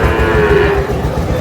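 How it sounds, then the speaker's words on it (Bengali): A Sahiwal calf moos in one drawn-out, fairly loud call at a busy cattle market in Gazipur, with a steady crowd murmur and shuffling beneath it. "শাহিওয়ালের বাচ্চা"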